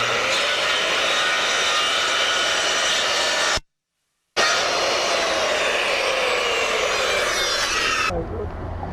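A handheld power saw cuts through a wooden fascia board during a gutter-area home repair, a loud steady whine running continuously, breaking off for a moment and resuming, then cutting out near the end.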